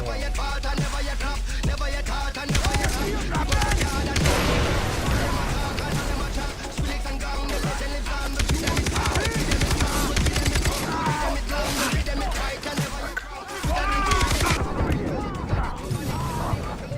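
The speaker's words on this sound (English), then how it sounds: "Machine gun." Machine gun fire in Far Cry 3 comes as rapid, sustained bursts amid a dense, chaotic firefight, with impacts and crashes mixed in and a voice talking over it at times.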